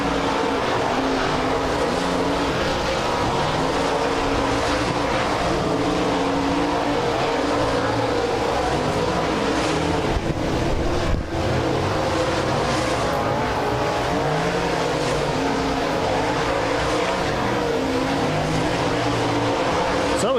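Modified touring race cars rumble loudly and continuously at a raceway during group qualifying, a dense layered roar of engines with an announcer talking over them.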